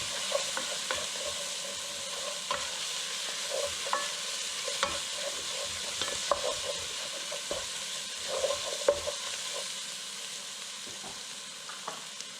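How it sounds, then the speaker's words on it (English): Ginger and garlic sautéing and being stirred in a pan, a steady soft sizzle with scattered scraping and stirring clicks throughout, close and moderately quiet, with no talking. "we'll give this a good whirl, saute for about 30 seconds"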